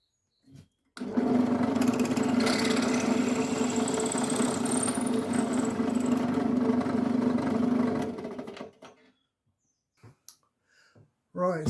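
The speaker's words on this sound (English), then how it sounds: "I'm going to take it over to the drill press because I've got one basically, and I'm going to drill a 6mm hole right there" A drill press drills a 6mm hole through a steel bolt with a steady mid-pitched motor whine and grinding hum for about seven seconds, then winds down, with brief sounds afterward.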